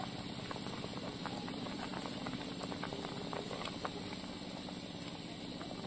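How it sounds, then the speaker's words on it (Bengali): Pangas fish curry broth bubbling in a pot on a village stove, a steady faint simmering hiss with scattered soft pops, continuous and unbroken with no talk. "ঝোল ফুটে উঠেছে, মাছের ঝোল"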